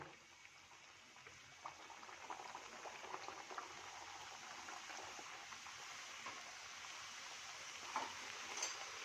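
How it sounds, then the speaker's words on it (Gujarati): Gujarati farsi puris bubble and hiss gently in deep hot oil until crisp, a steady soft frying sound with occasional faint pops, fairly quiet and without speech. "ક્રિસ્પી થાય ત્યાં સુધી આપણે તળી લેશું"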